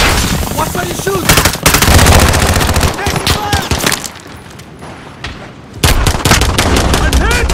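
Loud, close automatic gunfire from a multiplayer match of Call of Duty: Modern Warfare on PS5, long rapid bursts of machine-gun shots with a brief lull before the firing resumes, with game voices mixed in.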